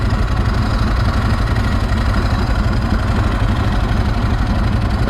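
A vintage motorcycle engine idles in neutral, close and loud, with a steady low throbbing rumble that holds even and continuous with no talking.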